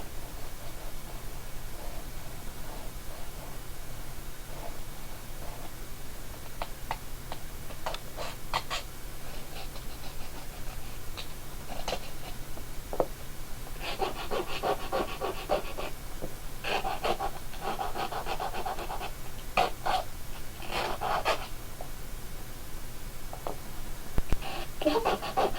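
Someone files burrs off the edge of a PCB, with soft, irregular rasping strokes coming in short bursts over a quiet hissing background, close by and faint.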